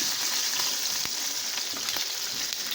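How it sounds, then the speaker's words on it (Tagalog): Grilled pork chop sizzles steadily up close, a dense continuous crackle with a few sharp pops scattered through, and no one talking. "malapit na maluto itong ating grilled pork chop"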